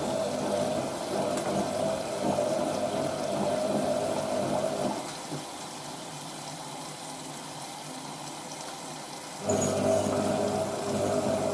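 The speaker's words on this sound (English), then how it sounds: "Water needs to penetrate through all that and then it'll be tumbling away." A 1986 Hotpoint 9530 Electronic 1000 Plus washer tumbles wet laundry in its drum: a steady churning wash sound that drops to a quieter lull midway, then picks up again near the end.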